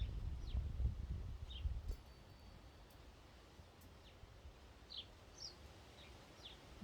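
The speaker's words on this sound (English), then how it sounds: "You can hear the leaves whistling, the birds chirping." Birds chirp in short, scattered calls at a distance in a quiet outdoor nature setting, over faint leaf rustling and soft wind that is louder during the first two seconds.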